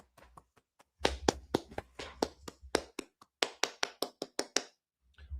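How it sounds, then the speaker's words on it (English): Irregular hand claps and taps, close by, come in uneven bursts with short gaps between them, a small scattered ovation during a talk watch party, with no voices over it. "By the way, yes, it's standing applause."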